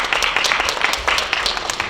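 An audience at a student project presentation contest applauds a student with a dense, steady burst of clapping from many hands.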